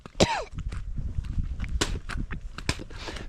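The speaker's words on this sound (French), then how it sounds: "Je tousse pas mal à matin" A single sharp cough near the start, followed by quiet rustling and a few soft clicks in an otherwise calm, cold outdoor setting on the Everest trek in Nepal.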